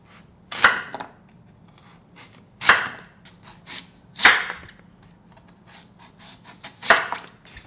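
A knife slices through a heavy radish into half-inch pieces, each cut a sharp, crisp chop landing on a cutting board, about five spaced strokes with faint rustling in between, close and clear.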